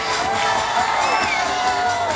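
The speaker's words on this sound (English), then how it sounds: "Operation Scream commencing in 3, 2, 1, scream!" A studio audience of children screams together on cue, a loud, sustained wall of shrill shouting and whooping that fills the whole moment without a break.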